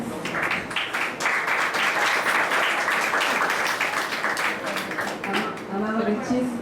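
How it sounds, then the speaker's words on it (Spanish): Strong audience applause at a library and Web 2.0 meeting during an award presentation, sustained crowd clapping throughout with a voice faintly emerging near the end. "pido un fuerte aplauso a Armando Sánchez"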